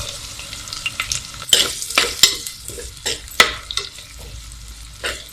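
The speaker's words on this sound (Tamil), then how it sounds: "இப்போ இதில் சின்ன வெங்காயத்தை சேர்த்துக்கலாம்." Shallots frying in a pan with fenugreek and crushed garlic for a fish curry: a soft oily sizzle broken by sharp, irregular clacks and scrapes of a spoon stirring, close and loud, with no voices.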